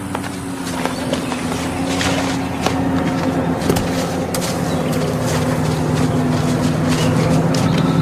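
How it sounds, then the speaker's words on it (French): A steady engine drone rumbles loud and continuous beneath a tense action scene, holding at an even level throughout with a few faint knocks on top. "un bruit de moteur à midi, descends."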